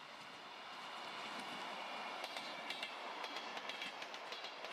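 A toy train rolls along steadily, a smooth hiss of motion with rhythmic clickety-clack wheel clicks growing more distinct partway through.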